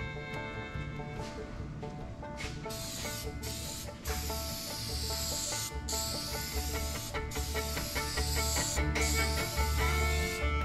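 Aerosol can spraying flexible surface primer onto the nose of a 1978 Indy Pace Car Corvette, a close steady hiss in several long bursts with brief gaps, alone without talk.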